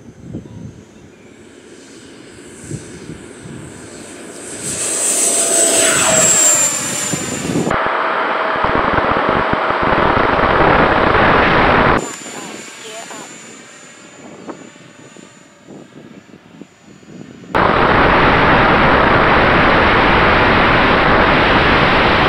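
A Freewing F-14 Tomcat RC jet with an FMS V2 Platinum upgrade throttles up and takes off, its electric ducted-fan whine rising sharply to a loud, steady rush, with abrupt cuts between close and quieter passes.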